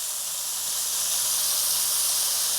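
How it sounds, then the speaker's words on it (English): A Tex-Mex patty melt beef patty searing on a hot griddle, producing a loud, continuous bright hiss and sizzle that holds steady throughout, close and uninterrupted by voices. "Get that a good sear on that"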